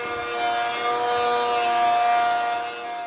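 A glued-up wooden board for a shed is run through a plane, giving a steady, close, whining machine buzz that swells slightly in the middle and then eases off.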